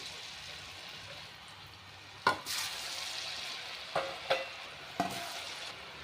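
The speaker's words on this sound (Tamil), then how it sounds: "முறுக்கு நல்லா பொரிஞ்சிருச்சு" Moong dal murukku deep frying in hot oil, a steady low crackle and fizz broken by a few sharp clinks or splashes near the middle and toward the end, with no voices.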